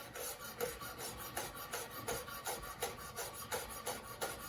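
A knife chops fresh basil in quick, regular strokes, each cut a crisp rasping tap repeating at a steady, brisk rhythm close by.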